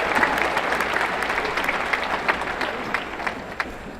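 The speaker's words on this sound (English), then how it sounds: "Proud dad over here led that applause." Applause from the audience at a university commencement ceremony, a broad, sustained clapping from a large crowd with a few louder nearby claps standing out, gradually thinning toward the end.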